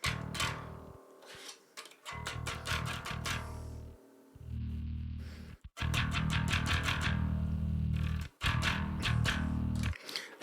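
Slapped bass guitar playing alone, loud and close, with a heavily processed, distorted tone: sustained thick low notes punctuated by bright percussive pops and gaps between phrases.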